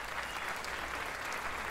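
A burst of applause plays as a sound effect during a livestream, steady, dense clapping that stays even throughout, with no talking over it.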